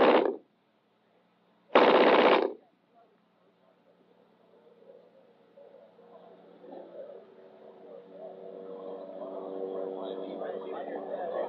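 Machine guns in NATO caliber and old German 7.92 mm rattle off two short, loud bursts at weapons training, followed by quiet and then someone talking at length.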